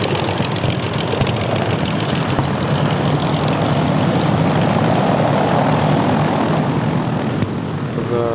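A rebuilt Morane airplane with a 1,000-horsepower engine drones loudly and steadily nearby, its propeller roar constant and dense throughout.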